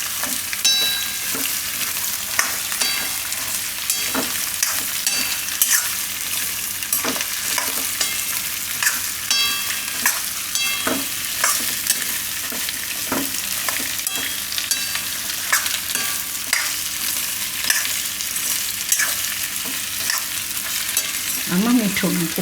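Spiny gourd (kantola) and onions stirred in hot oil in a pan, giving a steady close sizzle with frequent spoon scrapes and clacks throughout, no voices.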